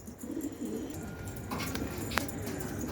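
Pigeons coo softly and continuously in a low, murmuring drone, fairly close, with a faint brief chirp partway through and no talk.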